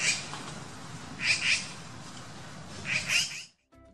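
Magpies give harsh calls in two clusters over a steady background hiss, rasping and loud, before cutting off abruptly, gathering around a dead companion.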